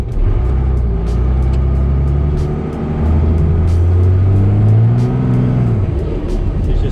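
Diesel pickup with a 24V Cummins engine spinning its tires, a deep loud engine drone rising and falling as it revs, with the rumble swelling and climbing in pitch during throttle bursts.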